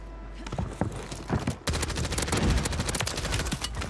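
Loud, rapid automatic gunfire in a first-person shooter game, with dense bursts of shots close by and a brief lull before a sustained volley of rattling fire.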